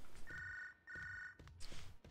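Telephone ringing in the Prison Simulator game, two electronic trilling rings in quick succession, moderately quiet, with faint background noise between them.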